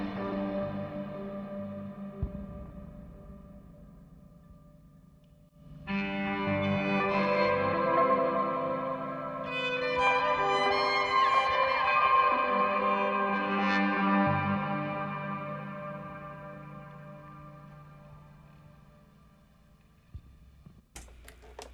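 Guitar or synth tones run through Chase Bliss Automaton and Thermae pedals, with spring-style reverb and pitch shifting. A sustained, layered wash swells up, shimmers with stacked pitched partials, then slowly decays and trails off, no voices present.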